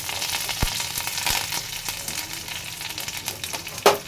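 Curry leaves, dried red chillies, bay leaf and five-spice seeds sizzle and crackle in a little hot oil, a continuous dense hiss with occasional pops and a sharp utensil clink at the end.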